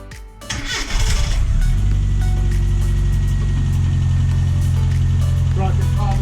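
A Classic Mini's engine cranks and catches with a short burst, then settles into a steady, loud, close idle that runs on to the end.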